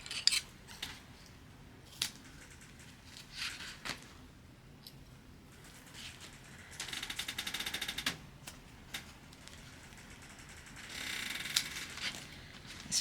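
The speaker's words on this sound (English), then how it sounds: "So let me get this taped down." Tape is pressed and pulled onto a junk journal cover, making quiet, close crinkles and clicks with a longer ripping pull in the middle and another near the end.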